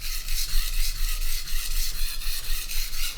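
A knife is sharpened on a whetstone with light pressure, giving soft, rhythmic scraping strokes about three per second, close and even, with no talking.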